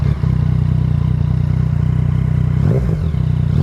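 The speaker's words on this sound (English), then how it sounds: "I love Yamaha's triple. It just sounds so damn good." Yamaha MT-09 three-cylinder motorcycle engine idling in neutral with a steady, loud, close throb, then a brief rev blip near the end; no talking.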